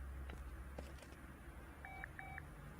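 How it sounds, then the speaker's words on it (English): A phone ringing in the video game Car Mechanic Simulator 2018: two short electronic tone bursts in quick succession near the end, preceded by faint clicks over a low hum. "And my phone keeps going off."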